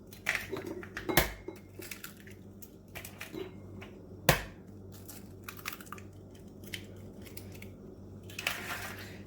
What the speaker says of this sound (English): in another bowl, I'm going to put 4 eggs